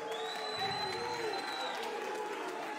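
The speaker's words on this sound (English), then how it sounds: "can we please get a round of applause for both of these fighters?" A boxing crowd at a WBO Global junior bantamweight bout cheers and applauds the fighters, a faint, distant swell of voices and clapping with whistle-like tones drifting over the arena murmur.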